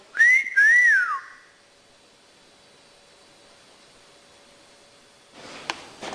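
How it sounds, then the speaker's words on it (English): A short two-note wolf whistle sounds clearly up front, followed by near silence and a burst of rustling noise at the end. "Go on, give us a wolf whistle."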